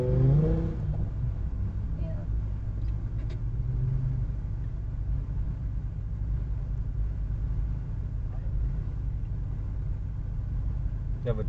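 An Audi S4 B6 at the Quattrolegende 2022 meet in Gmunden rumbles low and pulls away at moderate distance. The steady engine drone runs under people chatting nearby.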